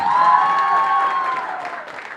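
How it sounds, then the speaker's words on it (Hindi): Guests applauding at a 50th anniversary party, light clapping under sustained music tones, with the music dominant and the clapping fading toward the end. "एक बार इनके लिए जोरदार तालियां"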